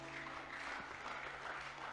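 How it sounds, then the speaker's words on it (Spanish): A church congregation applauds the Lord mid-sermon in a brief, faint wash of crowd clapping heard at a distance in a reverberant hall. "Dele un aplauso al Señor, se atreve."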